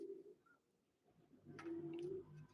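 A pigeon coos softly at a distance, a brief low call early on and a longer, steadier coo later over faint background rustle. The birds are large, high-flying pigeons.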